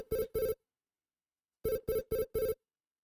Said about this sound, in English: Gillian, I have a video phone call from Jamie.